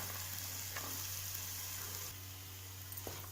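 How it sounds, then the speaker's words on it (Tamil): Fresh green peas go into a pan of frying onion and tomato for a vegetable kurma, a steady close sizzle with a few soft stirring scrapes and utensil taps. "இப்போ பட்டாணி சேர்த்துக்கிறேன்."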